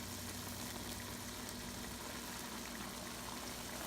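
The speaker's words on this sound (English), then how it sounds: "we're gonna simmer it for another minute" A milkfish steak simmers in sauce in a pan, giving a steady, quiet bubbling hiss with no pauses.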